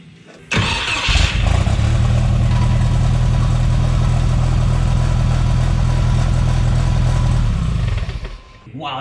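A turbocharged engine with a custom 3-inch exhaust fitted straight onto the downpipe starts up with a loud bark, then holds a steady, deep, rumbling idle close by for several seconds before dropping off.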